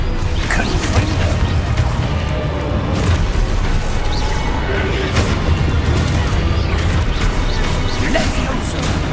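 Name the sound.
spell explosions in Hogwarts Legacy video game combat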